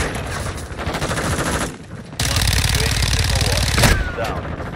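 Rapid automatic gunfire from a Fennec submachine gun in the video game Modern Warfare 2 crackles in loud, fast bursts. A short lull comes near the middle, then dense firing resumes with a sharp louder crack near the end.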